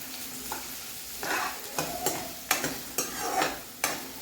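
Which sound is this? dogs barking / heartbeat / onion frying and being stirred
onion frying and being stirred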